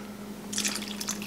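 Water poured into a pot of homemade veggie beef soup with barley, a short splashing trickle that starts halfway through the clip over a steady low hum.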